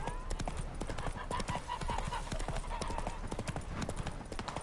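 Roach, a horse in The Witcher 3 video game, trots with quick, even hoofbeats clip-clopping close by, and a soft voice speaks beneath them.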